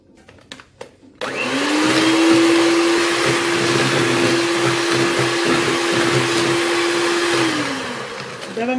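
An electric hand mixer beats egg whites for a cake, switching on after a few clicks into a loud steady whir with a constant motor tone that slows and winds down near the end.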